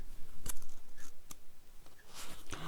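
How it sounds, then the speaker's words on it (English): Scissors snipping through craft material for a homemade flying machine, a few sharp separate cuts at irregular intervals, close and fairly quiet. "it was getting very difficult to cut all the way to there"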